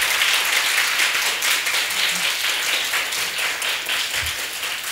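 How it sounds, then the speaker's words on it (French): Studio audience applauding loudly and steadily at the opening of a French talk-show magazine, a dense continuous clatter of many hands throughout with a few isolated low thumps. "Applaudissez très fort pour vous-même."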